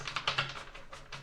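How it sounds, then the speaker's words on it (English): Tarot cards riffled in a shuffle, a quick run of soft papery flutters and taps close by, in short bursts with brief pauses between. "I gotta give it one more shuffle"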